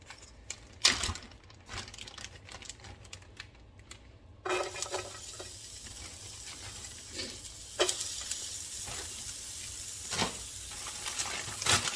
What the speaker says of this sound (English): in our pan, I'm going to add a handful of onions, which have already been prepped